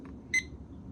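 A kitchen timer gives a single short, bright electronic beep over a quiet room hum, with a faint softer blip just before it.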